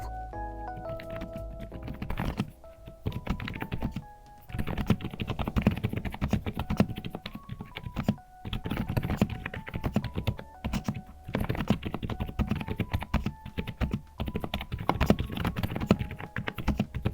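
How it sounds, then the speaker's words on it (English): Fast typing on a silent mechanical keyboard gives a dense run of soft, muted key thuds and clacks in bursts, with brief pauses between them, close and fairly quiet. "Oh yeah, this is definitely gonna be a silent keyboard."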